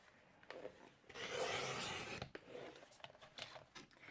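Card stock is cut at a marked line, a soft close-up rasping slice lasting about a second, followed by faint rustles and small paper scrapes, with no voices.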